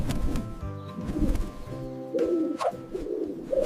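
A pigeon coos up close, several soft, throaty rolling calls repeated in short bursts with brief pauses between them, and no one speaks.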